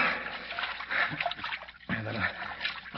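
Water sloshing and splashing in a 1945 radio drama as people struggle in deep water, a steady close churning wash with a short break midway, and voices mixed faintly underneath.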